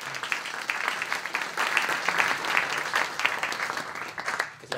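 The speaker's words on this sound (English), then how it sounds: "I would like to give them a big round of applause." Audience applause at a healthcare innovation panel: dense, steady clapping from a sizeable crowd that holds for about five seconds before thinning slightly at the end.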